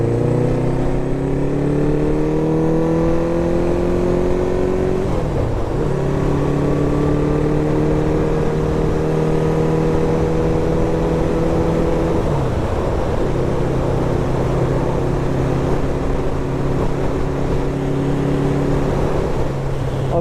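A 1970 Honda CB750 K0 motorcycle engine drones steadily at speed, its pitch climbing gradually and dipping twice at gear changes, with constant wind rush throughout.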